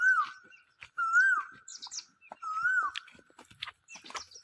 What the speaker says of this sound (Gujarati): કોયલ નો અવાજ